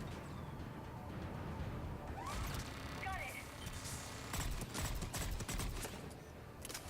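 Gunfire in a Mass Effect 3 Cerberus Attack firefight on Insanity difficulty, clusters of sharp shots and impacts over a dense battle din, heaviest in the second half, with game voices underneath.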